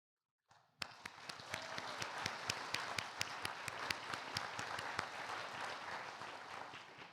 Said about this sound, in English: Please give all these graduates one more round of applause for their effort, dedication, and peaceful grit.